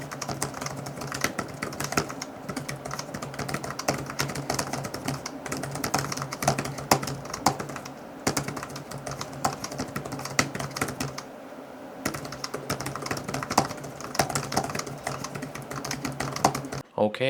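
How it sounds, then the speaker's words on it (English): Rapid, steady typing on an HP Omen Slim 16 laptop keyboard, close and continuous with dense key clatter and one brief pause, a quiet voice faintly underneath. "we'll do a quick typing test here on this keyboard."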